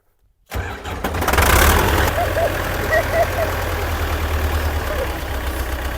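A tractor engine cranks and catches after a brief silence, then settles into a steady rumbling idle, close and loud, with faint voices in the background.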